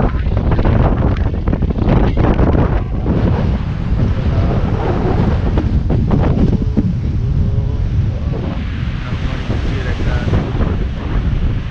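Strong wind buffeting the microphone over surging sea waves at the ghat near the Vivekananda Rock Memorial in Kanyakumari, a loud, continuous roar with no break.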